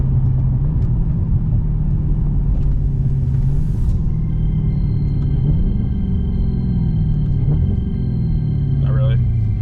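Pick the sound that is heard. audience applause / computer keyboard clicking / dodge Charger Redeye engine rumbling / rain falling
dodge Charger Redeye engine rumbling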